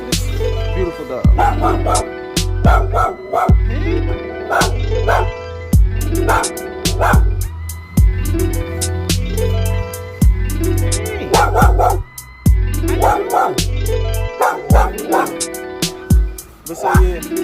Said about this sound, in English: look at this beautiful dog